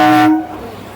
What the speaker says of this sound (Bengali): আপের ট্রেনটা আসছে আপের ট্রেনটা এলে আমাদের ডাউন ট্রেনটা যাবে